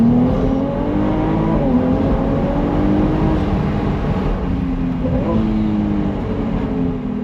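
A Ferrari 296GTB engine pulls hard under acceleration with a steady, loud, smooth tone that rises gradually and holds for several seconds, heard from inside or close to the car.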